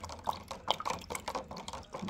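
Water sloshes and drips as turmeric is stirred into a litre of water, giving soft, irregular liquid splashes at close range.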